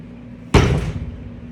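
A clay slab slapped down hard onto a work surface while being thrown, a single loud close smack with a short rumbling tail, over a faint steady hum.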